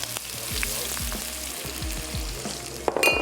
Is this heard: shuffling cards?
no